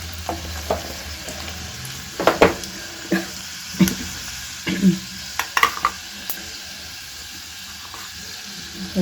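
Mustard seeds, tempering spices and cut green garlic crackle and sizzle in hot oil, a steady frying hiss broken by several sharp spoon scrapes and knocks against the pan, with no talking.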